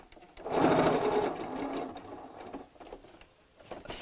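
A domestic sewing machine stitches the corner of a fabric tote bag in one close, whirring burst lasting about a second and a half, then slows and stops, followed by faint handling noises.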